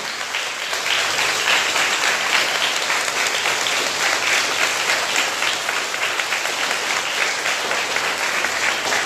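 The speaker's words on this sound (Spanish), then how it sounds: "con un fuerte aplauso a la alcaldesa municipal" Loud sustained applause from a crowd at a Mexican municipal public event honoring the mayor, dense steady clapping that carries evenly through the whole stretch with no speech over it.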